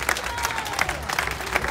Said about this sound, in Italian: per cui chiedo un applauso